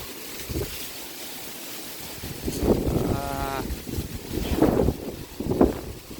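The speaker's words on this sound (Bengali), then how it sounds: "প্রচণ্ড রকমের ঝড় হাওয়া দিচ্ছে, গাছ পুরো হেলে গেছে" Strong Kal Baisakhi storm wind in Kolkata, gusting in rising surges that buffet the microphone and bend trees, with a voice and brief whistling tone among the blasts.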